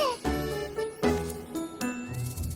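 Bells chime in a shop hosting an opening party in the video game Wuthering Waves, a bright tinkling with several struck tones ringing out and decaying, repeated about three times over a soft background.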